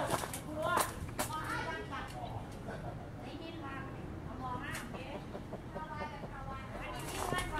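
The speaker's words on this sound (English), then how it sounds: "Like three roosters roosting up inside that tree." Occasional clucking calls from roosters roosting in a tree come through a noisy outdoor farm scene while a person talks over them.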